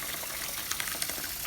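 Water pours from a tap into a crock pot holding jars for making caramel, a steady rushing splash at moderate volume with no talking.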